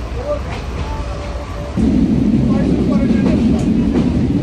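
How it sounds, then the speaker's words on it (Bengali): A moving train rumbles loudly and steadily around a rider aboard, the low roar growing heavier partway through, with faint voices underneath. "আমি মনে হয় 10 বছর পরে ট্রেনে উঠছি।"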